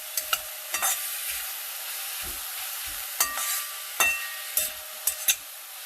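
Onions sauté in a hot pan with a constant sizzle, broken by repeated close scrapes and knocks of a spoon stirring them, with no talking.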